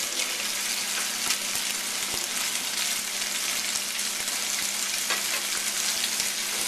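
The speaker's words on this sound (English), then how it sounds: "Next, I'm going to add my half a cup of water." Loud, continuous sizzling and crackling fills the clip as half a cup of water hits a hot frying pan with chicken, with a few faint clicks of a utensil.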